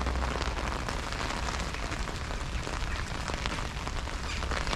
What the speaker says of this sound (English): It's quite fun coming out here in the rain.